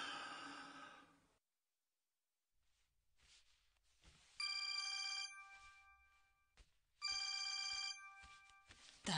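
Telephone ringing in a home at night: two loud bursts of electronic bell tone a couple of seconds apart, preceded by an earlier ring fading out, with soft breathing and sighs in quiet gaps between.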